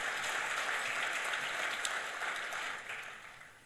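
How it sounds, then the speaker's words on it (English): A civic audience applauds at a State of the City mayoral address, a fairly faint, steady wash of clapping from a crowd that fades slightly toward the end. "Let's give them a huge round of applause."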